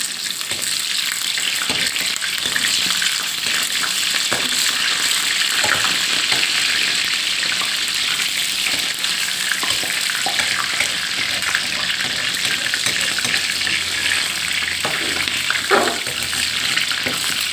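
Fish cakes (tod man) deep-frying in oil give off a loud, steady, dense sizzle and crackle that runs without a break, with faint clinks of utensils now and then and no talking.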